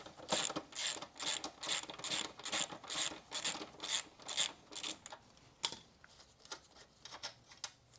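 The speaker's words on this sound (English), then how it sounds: "We're going to grab our 17 mil socket, we're going to put it on this side on our axle nut" A ratchet wrench with a 17 mm socket clicks steadily as it loosens the axle nut on a Talaria MX5 electric motorcycle, with close, rhythmic pawl ratcheting in bursts that then slow and trail off.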